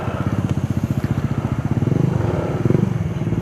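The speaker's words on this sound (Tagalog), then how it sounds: "Angas ng motor ni Sir, oh." A motorcycle engine idles and revs nearby before a group ride along the Mariveles loop in Bataan, a rapid, throbbing low pulse that rises slightly in pitch and strength toward the end.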